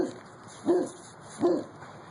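A dog gives two short, moderately loud barks or yelps about a second apart, somewhat distant against a steady background hiss, with no talk.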